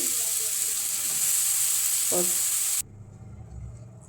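Grated carrots go into dry fruits frying in a pan for carrot halwa, with a bright, loud sizzle and hiss that suddenly cuts to a much quieter, low simmer for the last second or so.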